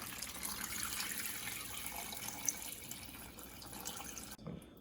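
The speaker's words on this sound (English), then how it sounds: "we're going to put in filtered, purified water from our Brita filter." Water pours steadily into a pot with a continuous splashing rush, close by, before stopping abruptly near the end.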